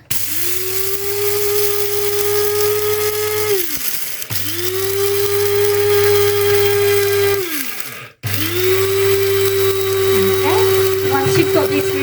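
An electric grinder blitzing low-carb pizza base ingredients runs in three loud bursts of about four seconds each. Its whirring motor pitch holds steady, then winds down sharply between runs.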